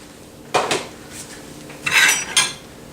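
A spoon stirs sauce in a bowl, giving a few brief clinks and scrapes of utensil on dish in two short bursts over a quiet background, close by and with no talk.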